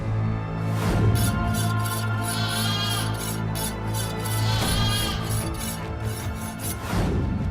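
Sheep bleating steadily and loudly close by, several overlapping drawn-out cries in a continuous flock chorus with no voices over it.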